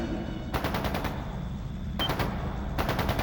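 Rapid bursts of automatic gunfire ring out in the video game Trails into Reverie, three separate volleys at moderate distance over a steady background rumble, with no talking.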